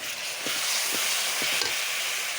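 Onions fry in a pan with water added, giving a steady sizzling hiss with a few soft stirring knocks.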